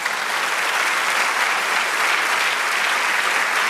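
A church congregation applauds steadily, dense continuous clapping that stays loud throughout with no break.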